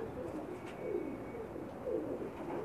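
A Pakistani pigeon, a shy breeding female, coos softly in a few low, rolling pulses close by, with no voices.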